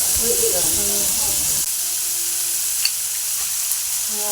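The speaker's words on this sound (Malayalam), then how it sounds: "ഇതിൽ മൂന്ന് മുട്ടയും നമുക്ക് പൊട്ടിച്ചൊഴിക്കാം" Steady frying sizzle and hiss fill the clip, with a faint clink or two, as three eggs are cracked into hot oil in a pan.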